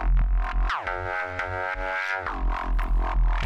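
Neuro bass from a Synapse Audio Dune 3 synth, dry with no effects, growls in short sustained notes with sliding pitch drops between them, a bright, harmonically rich snarl over a low thumping pulse.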